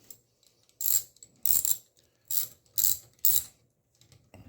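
A ratchet wrench tightens a 10 mm bolt on a 139QMB scooter engine during a big bore kit install, five quick clicking bursts in a loose rhythm, close and fairly crisp with quiet pauses between.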